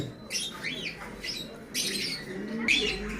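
Dabwala pigeons at a pigeon seller's in Khulna give several short squawks and chirpy calls in bursts, fairly faint and close, over a low background hum.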